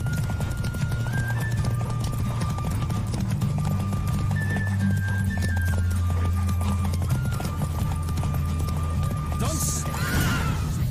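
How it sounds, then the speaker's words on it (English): A horse gallops flat out during a race in The Witcher 3, its hoofbeats thudding in a fast, steady rhythm for the whole stretch, with tonal background music running underneath. "Giddy up."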